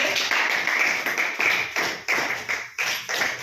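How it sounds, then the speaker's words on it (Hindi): A classroom of students claps in unison, with loud rhythmic group claps in regular bursts, close and clear, with no talking. "चलिए, वेरी गुड, जोरदार तालियां दीजिए।"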